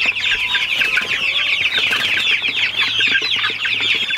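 Dense, continuous high peeping and chirping from young chicks, including Icelandic chicks and meat birds, in a farm building, loud and close throughout, with no talk.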